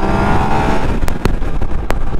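A motorcycle rider on a Yamaha MT-09 accelerates through traffic, with a loud, steady engine and road roar filling the scene and a few sharp broadband bursts breaking through near the end.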